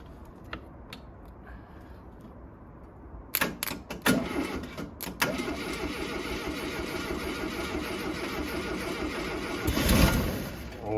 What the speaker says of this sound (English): Right, we've got fuel, we've got spark, we've got a starter.